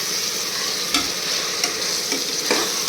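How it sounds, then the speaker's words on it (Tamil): Curd is stirred into a chicken biryani masala in a pan, a steady frying sizzle with spoon scrapes and soft knocks against the pan every second or so, close and fairly loud, with no voices. "ஸோ ஒரு 3 to 4 tablespoon கர்டு சென்னா நம்ம இப்போது மிக்ஸ் பண்ணிக்கலாம்."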